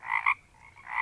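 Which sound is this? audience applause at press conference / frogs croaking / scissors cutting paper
frogs croaking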